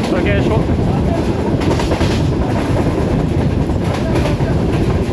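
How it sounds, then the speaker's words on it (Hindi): The Shalimar Express runs through Shorkot Cantt Junction, a loud continuous rumble with rhythmic clickety-clack of wheels over rail joints heard from inside the train, with a voice faintly under it. "इस वक्त हमारी train Shorkot cantt junction railway station से पास थ्रू करेगी"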